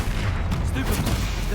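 Bombardo spell explosion in the video game Hogwarts Legacy, a dense, loud, rumbling blast that fills the whole short moment without letting up, layered over other game effects.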